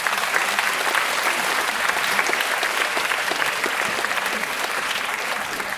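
An audience at a student musical comedy performance applauds strongly, dense sustained clapping from a large crowd that stays loud and even throughout, with no one speaking over it.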